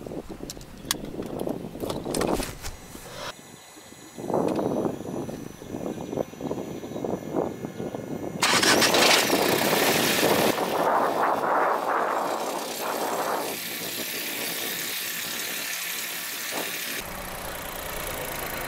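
Volkswagen Golf 7 facelift with a 1.0 TSI 110 hp petrol engine cranks and fires, then settles into a steady idle heard up close, with a brief rise in revs partway through.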